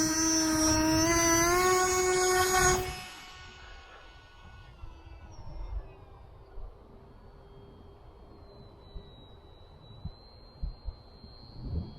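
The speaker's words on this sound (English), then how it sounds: "I'm going to see that stuttery motor I bet when I start it up." A ZOHD Drift RC plane's electric motor gives a loud, close, high whine with strong harmonics that cuts off after about three seconds, leaving faint wind rumble and a distant, thin motor tone.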